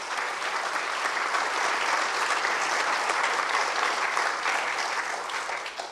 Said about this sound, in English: I think you should give you all yourselves a round of applause because of that.